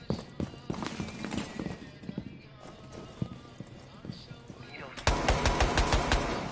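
Rapid bursts of Vulcan gunfire in a shooter video game, a dense loud stream of shots starting abruptly in the last second and a half, after busy game noise and voice chatter.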